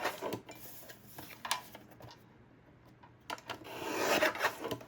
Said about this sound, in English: I'm going to see if I can just trim off the sides a touch, but not trim off the words.